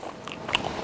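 Someone bites and chews a tough, fatty piece of cheap store-bought canned beef stew. A short crunchy bite sits near the middle, with soft mouth sounds around it, close to the mic and without talk.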